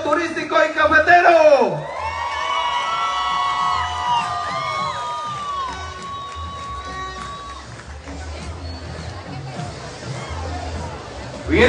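An audience at a coronation gala for Señorita Carmen de Chucurí 2024 erupts with loud cheers, whoops and whistles that taper into a steady crowd hubbub.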